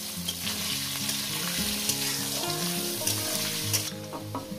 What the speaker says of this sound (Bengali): এবার আলুটাকে সুন্দর করে আমি মিনিট 4-5 ধরে ভেজে নেব।